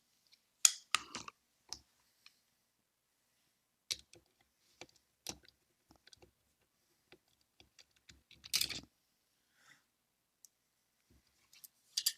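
A small screwdriver works an M.2 screw inside an Intel NUC, giving sparse, faint clicks and light ticks scattered over a quiet background, with a slightly louder scrape near the end.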